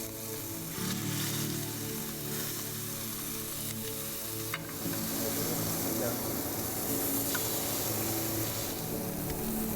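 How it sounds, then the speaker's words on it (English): Steaks dropped into a smoking-hot pan over high heat, giving a loud, continuous close-up sizzle that swells partway through and holds steady, with a voice talking over the searing. "Now it's time to sear our steaks."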